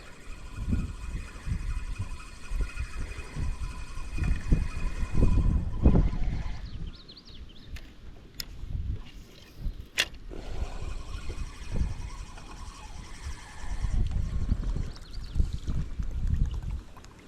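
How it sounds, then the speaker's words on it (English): Wind buffets a small sailing boat out on the water, gusty low rumbles rising and falling in uneven bursts, with faint water and hull sounds between the gusts. "Wind's just moving us right along here"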